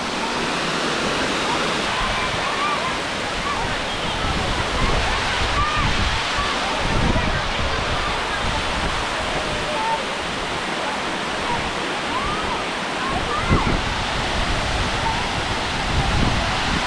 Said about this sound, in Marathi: हे पाणी सगळं वरून पडून इकडे साचतं आणि इकडून खाली उतरतं